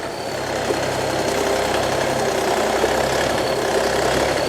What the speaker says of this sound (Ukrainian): треба ще тракторця цього прив'язати